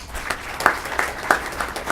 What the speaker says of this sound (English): so let's definitely give him a round of applause for that